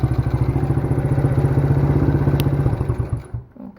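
Small quad ATV engine running with a loud, fast, clattering putter close by, then cut abruptly by its kill switch, the sound dying away into a few sputters and near silence.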